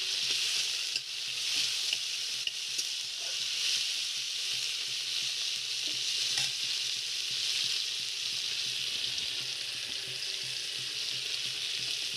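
Chopped tomatoes fry in a pan of parshe fish curry made without onion or garlic, giving a loud, steady, continuous sizzle that holds evenly throughout with no talking.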